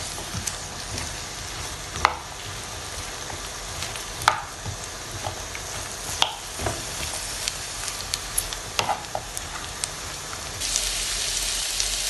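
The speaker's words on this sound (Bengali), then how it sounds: "একে একে সবজিগুলা ভেজে নেব।" Eggplant fries in a pan for ratatouille, with a soft, crackling sizzle and intermittent sharp pops and spatula clicks, steady and close with no talking.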